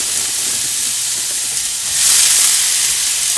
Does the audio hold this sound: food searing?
yes